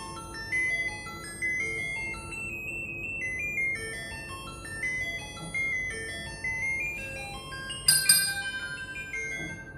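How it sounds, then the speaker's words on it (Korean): A bright, bell-like electronic school bell melody playing Für Elise steadily, with a sharper chiming accent near the end; no voices are heard. "두 번째 종소리, 수업 종소리 한번 들어보시고 대답해 주시기 바랍니다"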